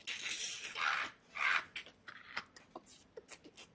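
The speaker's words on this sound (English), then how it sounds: "Putting a quarter in my jukebox" A quarter dropped into a jukebox: a short series of metallic clinks and rattles as the coin falls through the mechanism, close and fairly quiet, with no voices.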